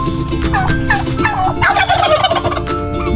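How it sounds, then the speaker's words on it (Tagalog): Turkeys gobble loudly and close by, several rapid warbling calls overlapping one another. "may naglilimlim na pabo dito."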